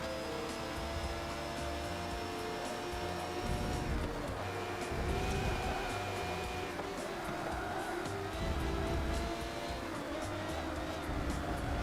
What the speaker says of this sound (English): that V12 has just got so much punch on the straights